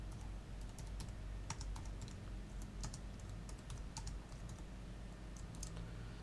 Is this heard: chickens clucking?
no